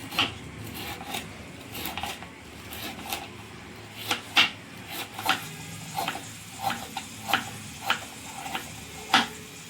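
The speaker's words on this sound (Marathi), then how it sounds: "सगळं खोबरं मी इथे कापून घेते" A knife slicing dried coconut into thin strips for a mutton curry masala: a run of crisp, rasping cuts, roughly one or two per second, close and clear against a quiet room.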